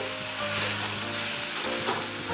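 Shevga drumstick flower bhaji sizzling in a pan on a low flame, a steady soft frying hiss with faint stirring clicks, close and continuous, no voices.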